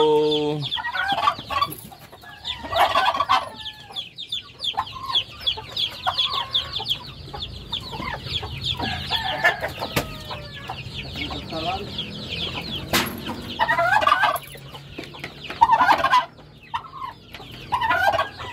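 Chicks and chickens cluck steadily on a farm, with repeated close clucks and chirps layered over a busy background of other birds, and a brief voice heard once amid the flock.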